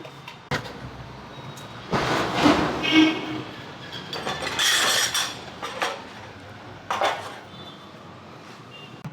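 Hot fried Tamil bakery-style mixture ingredients tipped from a pan into a container, a series of rattling, clattering pours with metallic scrapes and crisp bits tumbling, several separate bursts spread over a quiet kitchen background.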